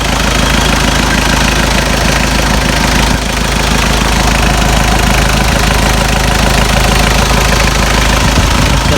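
The factory-turbo CD56 diesel engine of a 1990s Mitsubishi L200 Cyclone pickup truck idles loudly up close, with a steady rough knocking rumble that continues unbroken throughout.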